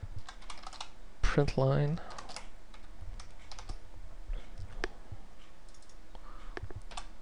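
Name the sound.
typing on a computer keyboard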